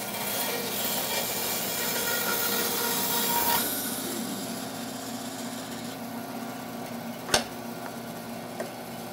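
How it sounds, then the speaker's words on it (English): A saw fitted with a wood slicer blade cuts through small wood pieces, giving a steady rasping hum that ends and is followed by a couple of sharp knocks in a quiet shop. "I'm using a wood slicer blade, so I'm not getting any splinter out on the back side of this, so it makes the cut nice and smooth"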